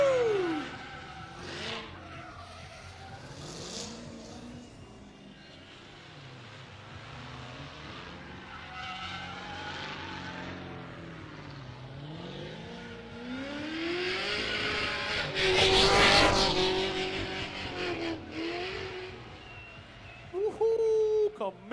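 At an outdoor drift and stunt show, a drift car's engine revs and wavers up and down as tires squeal through long slides, building to a loud peak before easing, with a commentator and crowd voices over the action.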